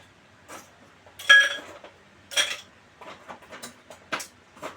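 Ice cubes dropped into a cocktail shaker while mixing a margarita, giving a few bright, irregular clinks and rattles spread over several seconds, close and moderately loud with no talking.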